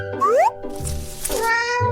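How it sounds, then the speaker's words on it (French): A cat meows loudly and close, two or three drawn-out rising and falling cries over light background music, with no talk. "Alors, un bébé qui miaule?"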